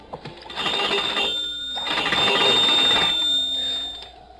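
An old telephone bell in a 1950s radio mystery drama rings loudly in two long, rattling bursts with a short gap between them, nothing else heard.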